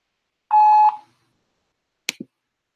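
A single steady electronic voicemail beep on a phone call, about half a second long and clean, followed after a pause by two quick soft clicks.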